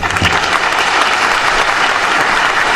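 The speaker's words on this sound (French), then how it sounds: "Je vous prie d'applaudir pour vous-même." Audience applauding steadily at a Cameroonian football awards ceremony for the country's best player, a dense, loud, continuous wash of clapping from many hands with no break.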